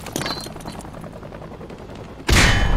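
On a Call of Duty Modern Warfare 2 training range, a frag grenade detonates downrange in one loud, sharp blast near the end, after a stretch of background gunfire pops and range noise.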